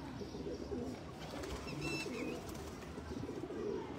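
Pigeons at a breeder's loft cooing in a steady low murmur of overlapping calls, with a faint higher chirp or two, moderately close and continuous.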